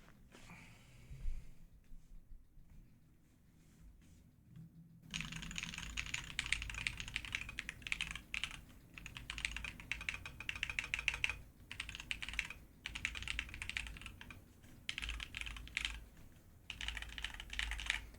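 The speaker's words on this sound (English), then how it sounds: "Now let's get to the typing test." Typing on a GMMK Pro mechanical keyboard, with a few faint sparse keystrokes and breathing at first, then a continuous fast run of clacky keypresses for most of the clip, close and fairly quiet.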